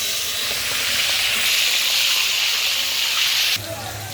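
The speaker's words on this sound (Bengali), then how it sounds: "এই যে পেঁয়াজগুলো তেলে দিয়ে দিয়েছি, এবার পেঁয়াজ ভেজে নিয়ে মশলা ছেড়ে দেবো।" Onions fry in hot oil, making a loud, hissing sizzle close by that drops suddenly near the end.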